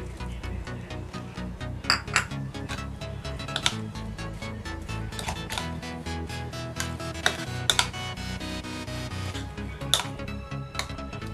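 Banana and apple pieces being stirred together in a bowl for a creamy fruit salad, with repeated clinks and scrapes of a spoon against the dish at a steady, close pace and no talking.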